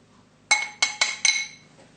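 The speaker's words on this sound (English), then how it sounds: "I'm just going to spoon that in because my bowl is slightly larger than my blender here" Chocolate cake batter is spooned from a large mixing bowl into a blender, a spoon clinking sharply against the jar four times in quick succession, close and clear, with no talking.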